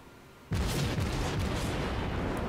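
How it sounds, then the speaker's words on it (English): Naval gunfire from a World of Warships Kuma cruiser in a concentrated barrage: a sudden loud blast of heavy cannon fire erupts after a quieter start and continues as a dense, rumbling roar of overlapping shots. "concentrated fire barrage going on"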